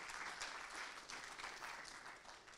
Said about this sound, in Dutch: Geef Arjan een hartelijk applaus voor zijn bijdrage